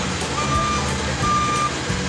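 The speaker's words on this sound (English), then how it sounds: "dump truck reverses up" A dump truck backs up on an asphalt paving job, its reversing alarm beeping in a steady repeated tone over a rumbling diesel engine close by.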